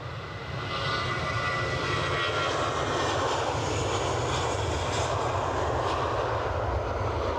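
ATR turboprop aircraft at Edinburgh, its engines rising to a steady, loud propeller-and-turbine drone within the first second and holding close and constant afterward.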